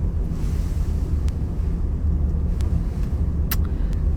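Steady road rumble from a car driving slowly through the Olde Wythe neighborhood of Hampton, Virginia, with continuous low engine and tire noise plus wind buffeting the microphone, no voices.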